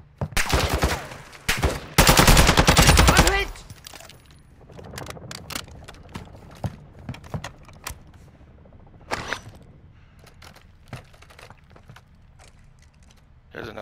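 Gunfire in Call of Duty DMZ, with a loud burst of rapid shots early followed by scattered sharp cracks and mechanical clicks, while players talk over the action.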